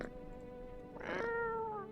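A single drawn-out cat meow from the video game No I'm Not Human, rising in the middle of a brief, quiet stretch of game sound.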